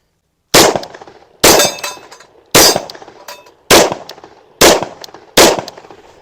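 Six loud, sharp gunshots from a Sig Sauer P229 pistol chambered in .357 SIG, fired at a steady pace roughly a second apart, each with a short ringing decay, no talking.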